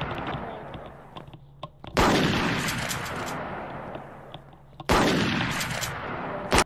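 Gunshots in the browser shooter game 1v1.lol, two loud sharp blasts with long decaying tails a few seconds apart, against a busy background of game noise.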